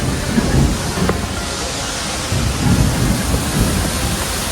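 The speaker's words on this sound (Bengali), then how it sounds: "বৃষ্টি পড়ছে" Steady rain pours down on a roadside stop in North Sikkim between Gangtok and Lachung, a dense continuous hiss with low rumbling swells that rise and fall, loud and close throughout.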